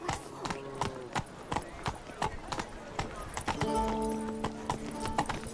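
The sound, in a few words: horse Roach galloping in video game The Witcher 3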